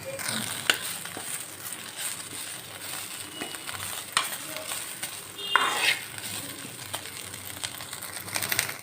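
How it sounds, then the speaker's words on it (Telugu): Drumstick leaves dry-frying in a kadai without oil, a soft crackling rustle with scattered spatula scrapes and light metallic clinks against the pan, fairly quiet and close, no talking. "ముందు మనము మునగాకు ఫ్రై చేసుకుందాము ఆయిల్ ఏమైనా అవసరం లేదు"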